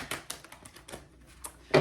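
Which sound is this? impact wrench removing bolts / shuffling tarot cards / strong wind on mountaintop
shuffling tarot cards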